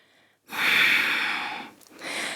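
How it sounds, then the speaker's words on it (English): Deep breathing during a yoga flow: a long, loud inhale or exhale through the nose lasting over a second, then a shorter second breath, close and alone. "Breathing for 2."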